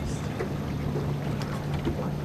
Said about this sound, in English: Oh, especially that wind coming up.